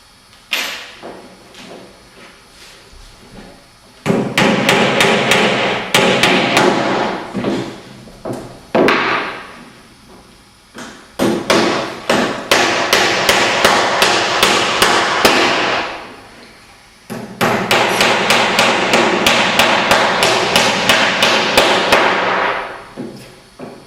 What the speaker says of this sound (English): to supplement it we'll put some bigger nails in.